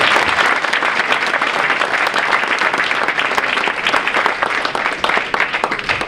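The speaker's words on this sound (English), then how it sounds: "So a round of applause for you guys." Sustained, enthusiastic audience applause at a fall varsity sports awards ceremony, a large crowd clapping loudly and evenly for about six seconds with occasional louder claps near the end.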